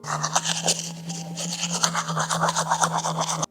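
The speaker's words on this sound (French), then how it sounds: "le troisième étape, c'est de se brosser les dents" A toothbrush scrubs teeth in quick, repeated strokes, a close rhythmic bristly scraping over a steady low hum, with no talking.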